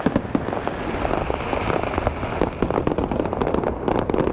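Fireworks bursting over the Calgary Stampede, a steady stream of crackling pops and booming reports from a distance, dense and continuous with sharp peaks layered through the barrage.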